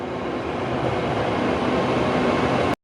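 A train of three electric power cars and two passenger coaches rolls past, a close, steady rumble with rail clatter that holds evenly before cutting off abruptly.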